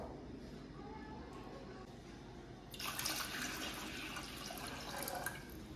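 Water poured into the lower part of a multi-cook kettle with a steamer, a steady splashing rush that starts partway through over a low background hum, moderately close.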